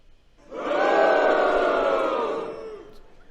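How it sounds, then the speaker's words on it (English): A crowd lets out a sustained, loud collective jeer that swells in quickly, holds for about two seconds, then fades away, with no talk over it. "So why am I booing that?"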